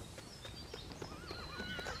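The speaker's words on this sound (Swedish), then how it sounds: "Och här är hästen." A horse neighs in the Lego City Undercover video game, a wavering whinny rising and falling over a steady background bed, with faint clip-clop like taps, fairly close and alone without talk.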